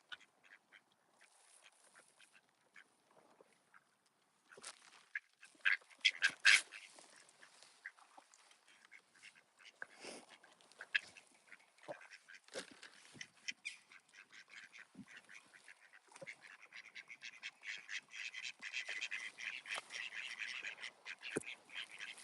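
Ducks quack in scattered, uneven bursts, faint at first and growing busier and denser toward the end, with no talk over them.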